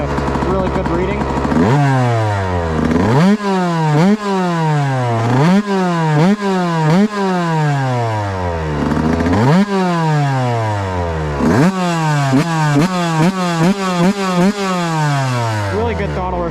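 A YZ125 two-stroke race-engine motorcycle being ridden, throttle blipped repeatedly in rising, falling revs; loud and close, with sharp gear-like sweeps and a steady rhythm of throttle bursts throughout.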